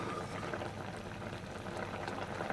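A pot of poa fish curry with potatoes and pumpkin boils steadily, giving a soft, continuous bubbling that stays faint and even throughout.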